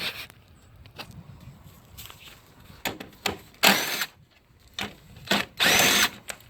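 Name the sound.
power tool removing engine bolts on a Nissan Rogue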